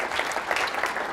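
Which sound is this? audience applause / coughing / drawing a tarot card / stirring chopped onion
audience applause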